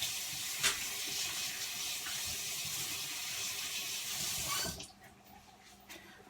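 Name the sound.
washing gloved hands under running tap water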